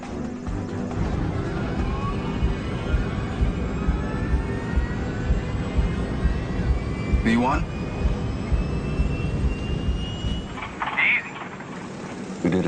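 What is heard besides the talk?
Air Florida Flight 90 jet engines on cockpit voice recorder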